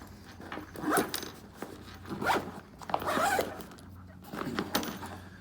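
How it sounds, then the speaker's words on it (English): Waterproof zippers on a Kosan travel pack bag are pulled closed in several separate close, rasping runs with short pauses between them. "I'm gonna zip it all up first."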